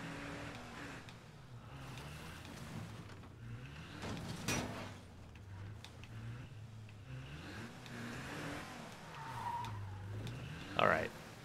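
A car skids and slides in a video game, a continuous rumbling engine with wavering, sweeping tire tones running steadily, ending in a short sharp squeal, with talk over it.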